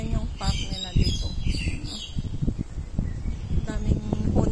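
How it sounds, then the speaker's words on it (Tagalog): Many birds chirp and call in a city park near an MTR station, bright twittering scattered over steady traffic rumble and street noise, fairly close and busy throughout. "Daming huni ng ibon,"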